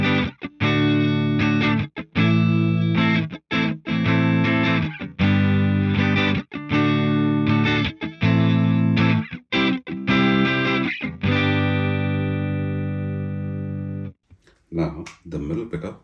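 A Squier Classic Vibe '60s Telecaster played on the neck pickup with a clean, warm tone, strummed chords in short bursts with brief gaps, ending with a sustained ring that fades out.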